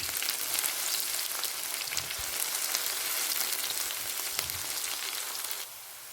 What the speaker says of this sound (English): Ensure the onions are nice and brown.